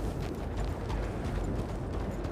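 Steady clip-clop of a pair of harnessed horses' hooves on a hard surface, continuous and close, with a low rumbling background.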